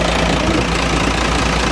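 A vehicle engine idles with its air cleaner removed while broken down on a mountain road in Nueva Vizcaya, a close, loud, even low rumble with a steady pulse and no misfiring, no talk heard.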